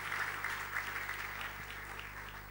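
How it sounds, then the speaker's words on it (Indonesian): A church audience applauds, a dense sustained patter of many hands clapping together at a moderate distance, steady for a couple of seconds beneath a low hum, with no speech over it. "Tepuk tangannya yang paling meriah buat Tuhan kita."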